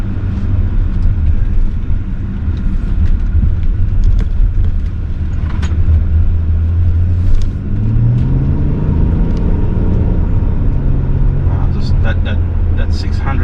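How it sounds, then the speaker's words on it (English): A 2018 Mercedes GLE350d W166 diesel SUV accelerates on the road, its engine a continuous low rumble that swells steadily, with a voice speaking over it. "You just gently press the throttle and it just picks up so easily and effortlessly."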